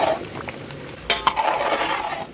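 A spoon scrapes and clinks through thick chicken gravy masala simmering in a large village-style pot, with a low sizzle underneath and a couple of sharper clatters midway.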